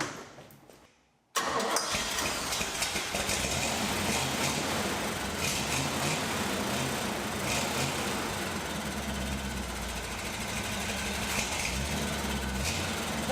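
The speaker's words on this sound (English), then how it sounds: "Let's fire this thing up, see how the exhaust sounds" An old 1968 GMC truck engine with a single exhaust cranks and catches after a short silence, then settles into a steady, rumbling idle with a rough, throaty exhaust note.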